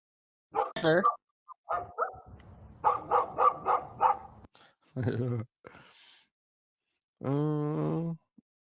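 A voice imitates dogs barking and growling in short, rough bursts, with a longer drawn-out howl-like cry near the end, mixed among stretches of talk.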